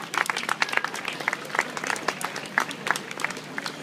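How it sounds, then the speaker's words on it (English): Scattered crowd at an autism awareness walk claps for event sponsors, sparse uneven individual claps rather than a dense ovation, fairly close and outdoors. "Please give them all a round of applause."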